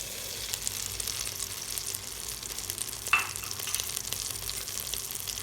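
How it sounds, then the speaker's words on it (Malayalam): Butter and caramel powder are mixed in a pan over a low flame for homemade caramel popcorn, giving a soft, steady sizzle with faint scraping and one brief clink partway through. "ഇനി മിക്സ് ചെയ്ത് കൊടുക്കാം."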